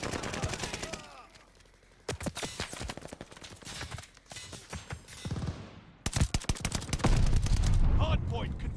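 Gunfire at a hardpoint in a video game arrives as rapid, sharp shots in dense bursts, broken by short lulls and ending in a loud, sustained barrage.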